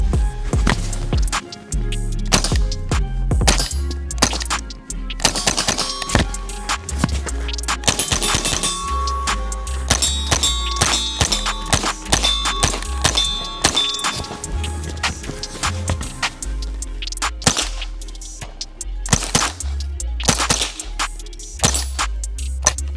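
A Winchester Wildcat .22 carbine fires a rapid dynamic string of shots at steel targets, each sharp crack followed by a metallic clang and ring, with short pauses between bursts and during magazine changes.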